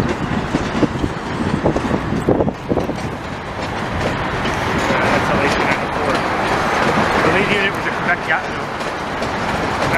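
A train rumbles past on the rails at a rail yard in Saint-Lambert, Quebec, a steady loud roar with clattering wheel noise throughout, and a faint voice briefly audible beneath it.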